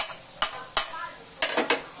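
Garlic and onion sautéing in a pan for crispy pork liempo kare kare: a low background sizzle broken by four or five sharp utensil clinks and scrapes against the pan, with no speech.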